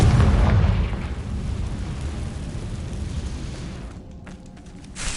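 A Confringo blasting spell explosion in the Hogwarts Legacy video game, a loud, deep boom at the start that fades into a long rumbling roar and tapers off over several seconds.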